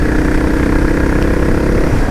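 A Suzuki 650 DRSE motorcycle engine drones steadily while riding, a loud, close, continuous mid-pitched thrum with wind rush and no speech.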